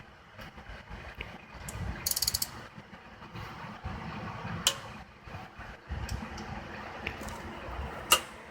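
A torque wrench works exhaust manifold bolts on a MK4 GTI 1.8T to 17 foot-pounds. Quiet ratcheting runs under a few sharp, close clicks that are spaced seconds apart.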